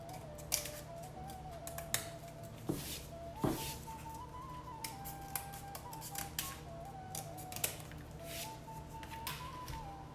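Scissors snip off the leftover material of a handmade Diwali door wreath, a few sharp, close cuts spaced over several seconds against a steady low background hum.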